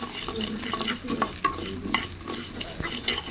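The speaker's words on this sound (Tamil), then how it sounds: "நெய் பிடிக்காத காரணத்தினால நான் எண்ணெய் போட்டு வறுத்துக்கிறேன்" Cashews frying in oil in a pan, a close sizzle broken by repeated scraping stirs of a spoon against the metal, steady and moderately loud, with no voices.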